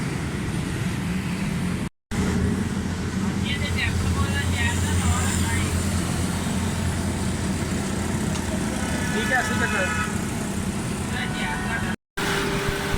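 A car engine idles steadily after tappet and fuel repairs, a continuous low hum with someone talking over it nearby.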